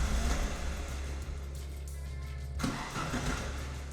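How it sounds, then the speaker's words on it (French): Starter motor cranks an Alfa Romeo 105 engine without fuel, a steady mechanical whirring churn that continues for several seconds, then shifts in tone before falling back to a quieter hum. "là j'ai juste envoyé le démarreur, donc ça veut dire que le moteur il a tourné"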